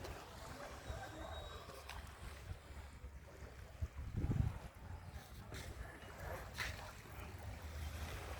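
Steady outdoor wash of sea and surf with some wind, a brief louder surge midway, and faint voices in the background.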